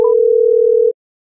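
A single steady telephone tone from a redialed call, near and loud, holding for almost a second before cutting off abruptly into silence.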